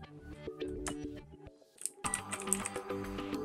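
Fingers type an album title on a computer keyboard, a quick run of close key clicks that pauses briefly and then resumes in a denser, louder burst, with no voice.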